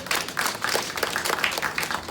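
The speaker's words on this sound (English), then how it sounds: "Give yourselves a round of applause." Graduates of a senior digital literacy programme clap together at their graduation ceremony, producing a brief burst of moderately dense, uneven hand clapping from a modest group.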